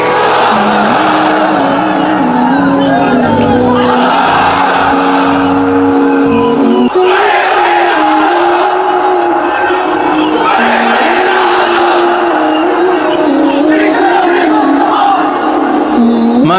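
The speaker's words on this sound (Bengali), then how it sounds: "হ্যাঁ তাকবীর করেন তো দেখি" A large crowd at an Islamic sermon gathering shouts the takbir response in unison. The sustained, loud massed voices fill the whole span with rising and falling surges.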